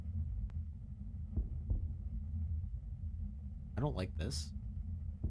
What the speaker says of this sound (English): Use Z or space, or Z or space to align your heartbeat.